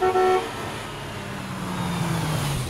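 A cartoon car sounds a short, bright horn toot at the start, followed by a steady engine hum as it rolls past.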